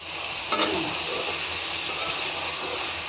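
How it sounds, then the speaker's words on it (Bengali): Meat frying in a hot pan at a home kitchen, a loud continuous sizzle and hiss with brief stirring scrapes, close and steady without speech. "মাংসটা খুব সুন্দর করে আমি ভাজি করে নিব।"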